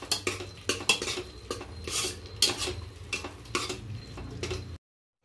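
A metal spoon scrapes and clatters against a pot while mushroom biryani masala is stirred and blended with rice and powder, producing repeated close, sharp knocks and scrapes with no talking.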